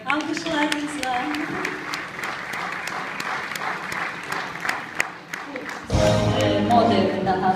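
Audience applause at a fashion designer-of-the-year event: steady dense clapping with voices mixed in, swelling louder and fuller toward the end.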